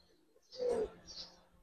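Single soft coo from a Giribaz or coloured pigeon at a pigeon farm, close and brief, rising out of a quiet background.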